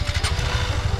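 Small scooter engine buzzing as the rider turns, a close, throbbing putter with quick pulsing beats and no speech.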